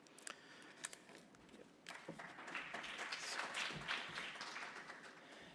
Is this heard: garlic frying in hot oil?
no